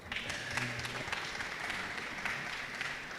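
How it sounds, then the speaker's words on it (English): Scattered applause from an audience at an evening community ideas forum held in a secondary school, steady and moderately distant, lasting a few seconds with a faint voice low underneath. "You could clap for that, I guess."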